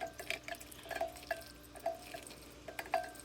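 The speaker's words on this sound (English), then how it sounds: "Here I am draining the pasta." Water draining from cooked rigatoni pasta, with scattered small drips and trickles at close range in a quiet kitchen.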